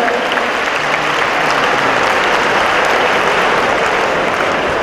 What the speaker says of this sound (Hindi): Each Tali for 1 year.